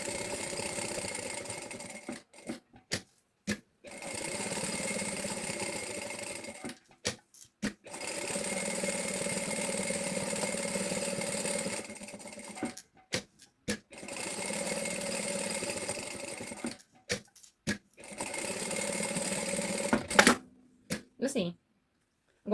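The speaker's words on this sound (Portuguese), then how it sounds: "vou passar uma costura a toda a volta, por cima do forro" A sewing machine runs in several bursts of rapid, buzzing stitching as it sews around a bag pocket over the lining, pausing between runs with soft handling clicks and a faint voice near the end.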